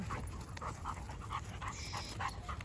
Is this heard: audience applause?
no